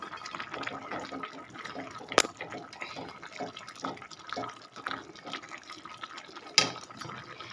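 Rice poured into a pot of boiling liquid with rice flour mixture, a faint continuous bubbling and liquid churn with a couple of sharp clinks, close by.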